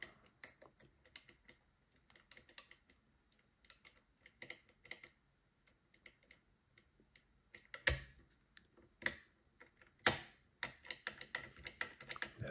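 Someone picks a mortice lever lock and lifts its levers, producing sparse, faint metallic ticks and small clicks close up, with a few louder clacks toward the end and no speech.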